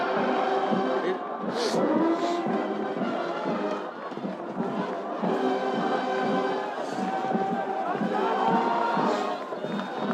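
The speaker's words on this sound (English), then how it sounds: "Crowd on their feet." A high school football crowd at William Blount vs Hardin Valley Academy cheers and shouts in lively waves, with scattered whoops and yells rising over the broad roar; nobody's words come through clearly.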